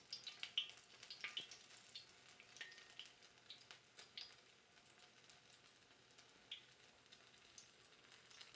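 Oil sizzles steadily in a pan while Colombian food fries. It is a soft, continuous crackle with faint pops and spits, heard alone without talking.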